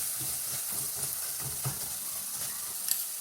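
Kashmiri chili powder stirred into hot oil on low heat for Kerala-style fish pickle gives a quiet, steady sizzle with faint rhythmic stirring scrapes, close by and without speech.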